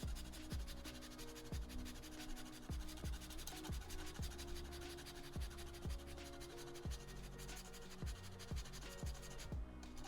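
Fresh ginger scraped across a fine grater in steady back-and-forth strokes, a dry rasping rub repeating about every half second, close and fairly loud with no talking.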